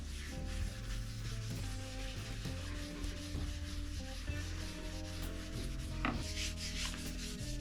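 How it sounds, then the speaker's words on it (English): Steady, continuous rubbing of abrasive sanding paste over a carved wood and resin spoon rest, a gritty back-and-forth texture with tonal hum beneath, close and fairly loud throughout. "we'll get the abrasive paste on it. Sanding paste."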